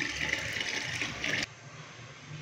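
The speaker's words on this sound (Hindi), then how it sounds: "तो अभी हम इसके अंदर चावलों के लिए पानी डालेंगे।" Water poured into a pot of cooked chicken korma for handi pulao rice, a steady close gushing splash lasting about a second and a half before stopping abruptly.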